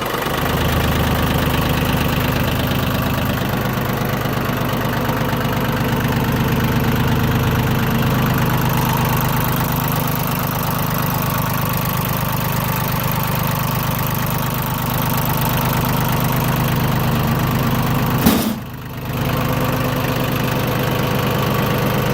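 A Yanmar YM1820D compact tractor diesel engine idles steadily with a low, even, knocking chug that runs unchanged for a long stretch, close by, before a brief knock near the end.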